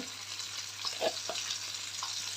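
Mustard seeds and cumin frying in oil for an okra masala curry, a steady close sizzle broken by a few sharp pops, with no voices.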